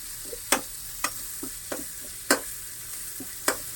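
Onions frying in a pan toward brown for tamarind fish curry, a soft background sizzle broken by about half a dozen sharp spatula taps and scrapes at irregular intervals.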